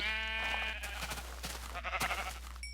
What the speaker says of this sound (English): I'm going to get some wool by, of course, punching the sheep